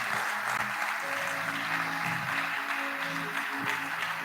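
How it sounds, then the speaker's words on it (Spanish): Church congregation applauding during a Spanish-language sermon, a steady dense wash of clapping filling the whole stretch, with faint musical tones and low voices beneath. "Dele un aplauso a nuestro Dios"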